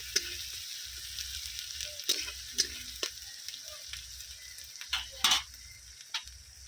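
Onion sizzles in hot oil with a steady crackling hiss close up, punctuated by clinking stirs of a utensil against the pan every second or so, with no voices.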